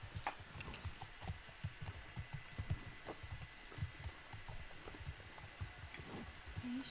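Horse hooves in The Last of Us Part II video game, a steady clip-clop of walking steps close by, with a brief whinny-like tone near the end.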